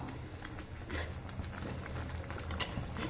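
Steady bubbling and sizzling from oil brinjal (eggplant) curry simmering in a pan on the stove, a continuous soft simmer with faint scattered pops and clinks, no voices.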